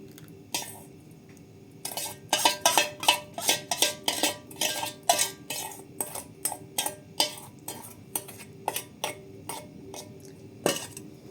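A utensil whisks and scrapes batter of eggs, sugar and melted butter in a bowl, giving a steady run of close clinking, tapping strokes with short pauses between them.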